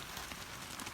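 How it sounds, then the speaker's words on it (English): Heavy rain pours down steadily over a vegetable garden of spinach seedlings, a dense, even hiss of drops close around the listener, with no voices and no breaks. "Sorry about the noise of the rain, it's getting heavy."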